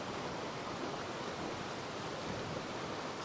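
A falling river flows steadily on a fishing trip, giving an even, continuous rush of water that fills the whole moment with no voices.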